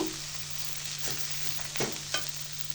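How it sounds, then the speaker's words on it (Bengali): Boiled shredded chicken, cooked with turmeric, salt, ginger and garlic, is stirred into mashed potato in a pan for meat potato chops, giving a few soft scraping strokes over a steady low hum, with no talk. "তো মাংসটা দিয়ে মিশিয়ে নিব।"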